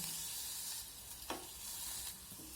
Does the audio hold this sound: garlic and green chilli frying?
yes